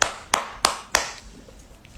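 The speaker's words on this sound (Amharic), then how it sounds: "አጨብጭቡላት" A few sharp, separate hand claps in a slow, even rhythm, four crisp strikes close by that fade out, with no talk.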